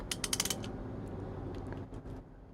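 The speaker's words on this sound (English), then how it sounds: "I'm using a 1/2-inch socket here. I'm just going to snug all these up a little bit" A 1/2-inch socket wrench snugs up bolts on a 50 HP Mercury outboard motor, giving a quick burst of close ratcheting clicks and then a softer mechanical creak.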